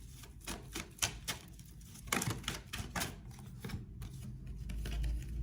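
Tarot cards handled and shuffled at close range, a run of quick, dry papery flicks and taps coming in irregular bursts, with no voices.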